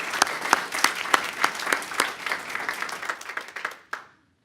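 A conference audience at a comics forum keynote claps in a steady round of applause, with a few sharp, distinct claps standing out over the wash before it stops abruptly.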